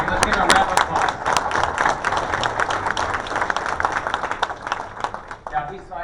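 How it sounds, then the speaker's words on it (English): Dinner-hall audience applauding at a Lincoln Day Dinner, a dense, steady wash of many hands clapping close by that holds for about six seconds and thins slightly at the end. "Let's give him a round of applause."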